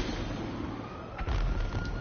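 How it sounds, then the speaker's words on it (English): Fireworks go off in a snowy video game, a sudden burst of low booming thuds and crackle rising over a steady background of game ambience, with a second smaller pop shortly after. "Firework!"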